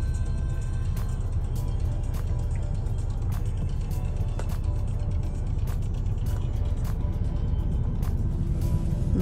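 Steady road traffic rumbles outside a food bank office in South Carolina, with cars passing close by and a constant low engine and tyre roar, broken by faint periodic ticks and no talking.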